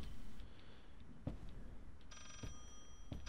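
Rotary phone ringing inside the horror game Layers of Fear, bright repeated bell trills in the upper range over a low rumbling backdrop, with a few dull thumps in between and no talking.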